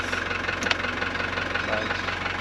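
A Mercedes W115 220D diesel engine idles steadily close by, its even low knocking rumble continuing throughout with a faint brief click near the start.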